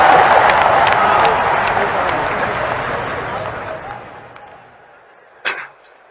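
Audience applause at a political gathering where Navjot Sidhu is praising Manmohan Singh: a loud, dense wash of clapping that gradually fades over about four seconds, followed by a single brief thump near the end.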